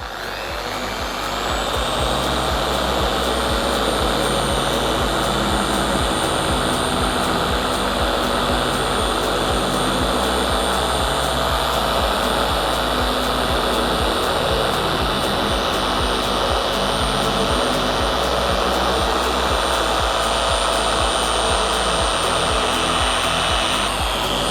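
Car polishing machine running at a low-to-middle speed setting while working compound into scratched paint, a loud, steady, close whirring drone that holds with little change throughout.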